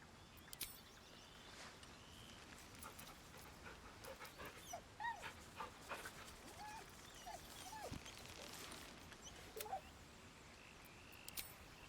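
A dog in the video game Baldur's Gate gives several faint, short, high whimpers and yips at scattered moments over a quiet, hissy background.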